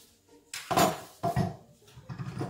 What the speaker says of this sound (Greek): ανοίγουμε το καπάκι